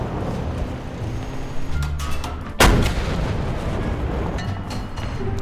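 Gunfire in a shooting video game involving an XM8 tank: one sharp, heavy, booming shot stands out over a steady rumble of background game noise, with fainter pops around it.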